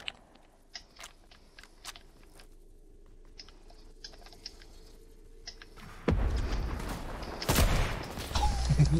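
After quiet scattered clicks, gunfire in a video game bursts in loudly, several heavy cracking volleys in quick succession toward the end.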